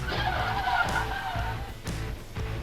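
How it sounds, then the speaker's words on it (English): At a red-light intersection, a blue car T-bones a white car. Tires skid and whine loudly, then sharp impact thuds land near the middle and end, over continuous road and engine noise. "This submitter watched the driver of a white car run a red light and get T-boned by an oncoming blue car."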